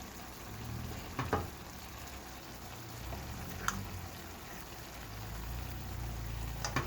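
Habanero peppers cooking down in a pan give a steady, low sizzle and crackle throughout, with a few sharp pops and clicks rising over the frying.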